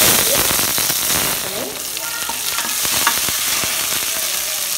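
Loud, steady sizzling of mustard seeds frying in hot oil for mutton curry, with crackles and pops scattered throughout and a few faint clinks close by.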